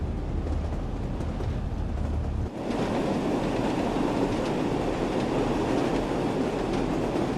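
A train runs steadily in Train Sim World 5 on the line near Millersdale in the Peak District, a continuous loud rumble and rolling roar with no pause, close and dominant throughout.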